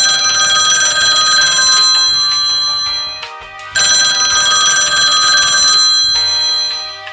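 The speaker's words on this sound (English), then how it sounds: "Oh boy, my phone is ringing." A telephone rings loudly in two long electronic trills separated by a brief pause, with no voices.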